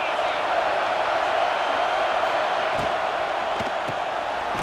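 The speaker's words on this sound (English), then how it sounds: "This crowd trying to make life miserable for this offense." Stadium crowd noise in College Football 26 during a Penn State vs Nevada game: a steady, loud, dense roar that holds for the whole stretch, with a few sharp thuds near the end.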